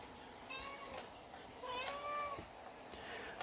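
A hungry house cat meows several times, giving drawn-out, fairly faint mewing calls close by in a quiet room, with no talk over them.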